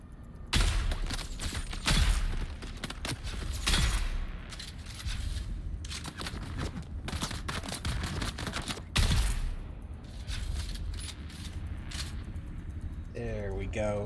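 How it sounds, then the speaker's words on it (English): Bursts of machine gun fire rattle in Dune: Awakening, dense volleys with sharp louder shots scattered across the stretch, while people talk over the shooting. "I think there's a machine gunner somewhere."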